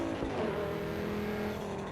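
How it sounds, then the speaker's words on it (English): A Porsche 911 GT3 RS in a racing video game holds a loud, steady engine note with a smooth rising harmonic whine, continuous and close throughout the short stretch. "engine sounds good"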